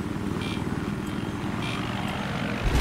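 A military helicopter in the video game Battlefield 3 drones with a steady, loud rotor and engine roar, continuous and close throughout.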